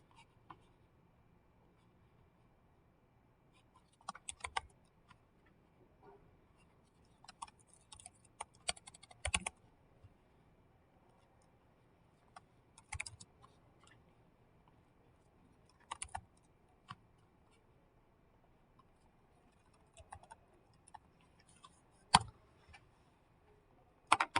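Someone types on a computer keyboard, entering text into a sticky note, with irregular bursts of quiet key clicks separated by pauses and no talking.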